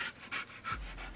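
A trained dog pants in quick, repeated breaths close by during a flip-turn obedience session, the rhythmic huffs standing out with no talking over them.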